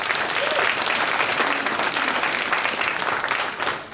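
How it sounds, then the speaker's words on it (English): An audience at a District 3 community meeting applauds a councilmember, sustained dense clapping from a crowd at close range that holds steady for several seconds before starting to thin out at the end. "A round of applause for him."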